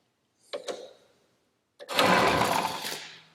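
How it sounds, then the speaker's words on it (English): A sprayer hose reel motor clicks twice, then whirs into a loud, steady electric drone as its solenoid is jumped from the main power post, heard up close with no voices. "And when I do that, the reel motor does turn on."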